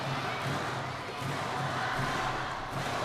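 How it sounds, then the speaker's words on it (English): Badminton arena crowd of Chinese and Korean fans chanting during a tense men's singles match at the 2014 Asian Games, a dense, steady roar of massed voices with rhythmic swells filling the hall throughout. "A chant goes up from both camps. Chinese and the Koreans."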